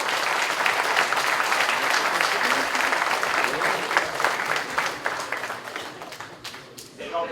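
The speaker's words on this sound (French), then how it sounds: "Merci d'applaudir tous ces bénévoles présents depuis plusieurs mois." Sustained crowd applause for volunteers at the opening ceremony of a competition at Château Plaisir, France, dense and steady throughout, tapering slightly toward the end with voices mixed in.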